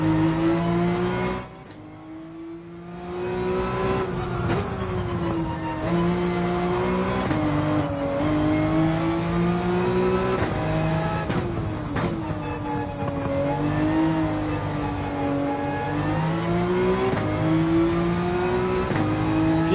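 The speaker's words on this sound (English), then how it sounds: "Gotta rev out this 911 to get it into its peak power" A Porsche 911 engine revving in Gran Turismo 7, a loud sustained engine tone that rises and falls through the revs, with a short dip near the start and no voices.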